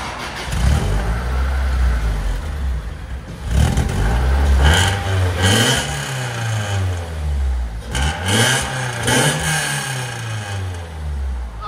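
Exhaust note of a 1977 Toyota Celica GT swapped with a 3SGE engine, revved repeatedly from idle, loud and close, with pitch rising and falling through several throttle blips.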